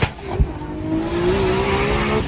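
A turbocharged car engine revs up and pulls hard, its rising drone building steadily and staying loud and close, with a brief thump near the start.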